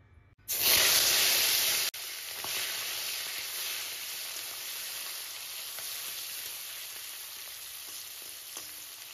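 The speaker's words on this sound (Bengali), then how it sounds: "এইবার আমি চিংড়ি মাছগুলোকে ভেজে নেব হলুদ এবং লবণ দিয়ে।" Prawns dropped into hot refined oil with turmeric and salt set off a loud, sudden sizzle that eases after a couple of seconds into a steady, dense frying hiss, with no talking.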